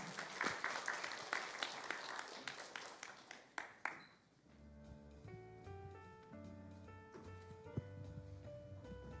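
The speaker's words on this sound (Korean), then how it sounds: "박수하겠습니다" A congregation at a Sunday youth worship service claps in a dense burst for about four seconds, then the applause fades as soft sustained keyboard chords take over and continue alone.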